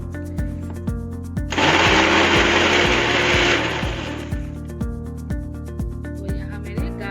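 Garlic and ginger being ground into a paste in an electric grinder, a loud whirring burst lasting about two seconds that cuts through a steady rhythmic background beat, then stops.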